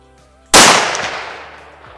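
A single loud rifle shot fired with Winchester 150 grain Deer Season XP ammunition while zeroing a Leupold VX Freedom scope on a 350 Legend, a sharp crack that rings out into a long decaying echo.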